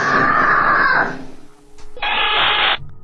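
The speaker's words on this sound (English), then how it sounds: "Then a loud scream pierces the air, sending the little girl running for mommy." A woman's loud, sustained scream rings out in a reported haunting, breaking off after about a second, followed by a quieter pause and then a second long, piercing scream.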